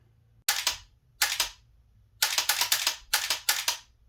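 Gunfire in a first-person video game shooter, sharp close shots in short bursts: two single shots, then two quick rapid strings separated by silence.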